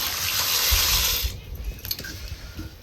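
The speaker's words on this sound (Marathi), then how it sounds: "आता ह्याच्यात डाळ घालते" Dal lentils poured into lukewarm water in a cooking pot, a brief rushing splash for just over a second, followed by a few small clinks and settling sounds at close range.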